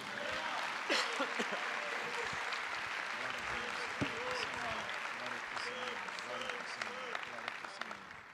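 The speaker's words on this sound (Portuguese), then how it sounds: "Vamos aplaudir ao Senhor, meus amados." A church congregation applauds steadily and densely throughout, with scattered voices and musical or vocal tones rising faintly beneath the clapping.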